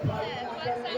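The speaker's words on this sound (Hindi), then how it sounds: "पूरी भीड़ है।" A crowd chatters at a Navratri puja gathering where lamps are being lit, a close, steady babble of overlapping voices filling the moment.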